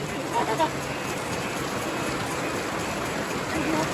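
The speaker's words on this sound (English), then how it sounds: "A little bit of rain on Fraser Island." Steady light rain patters and hisses evenly across the whole stretch on Fraser Island, close by, with no other clear sounds.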